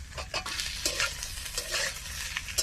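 Pointed gourd and potato being stirred and fried in a pan with ginger and green chilli paste: a steady close sizzle broken by repeated scraping stirs, with no voices.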